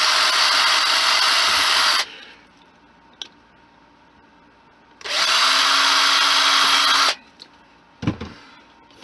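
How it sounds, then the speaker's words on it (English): A power drill bores screw holes for a servo mount on a model railway turnout control, close and loud. Two sustained whining bursts of about two seconds each are separated by quiet gaps with small clicks and handling taps. "I found the right size drill for the screws that provided."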